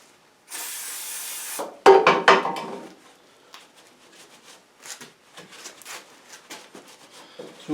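Carb cleaner sprays from an aerosol can onto a snow blower PTO shaft in a steady close hiss, followed by scraping, rubbing and clinking of handling and wiping.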